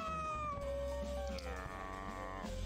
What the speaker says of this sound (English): And Mikahito says meow!